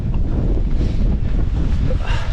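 Fierce wind near a summit cairn in the Langdales, Lake District, hammers the microphone in a constant heavy rumble with gusting surges, any voice lost beneath it.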